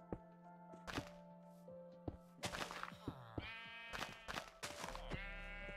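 Sheep bleat repeatedly in Minecraft, several close, wavering calls over about six seconds, mixed with blocky thunks from building and placing blocks next to a desert village.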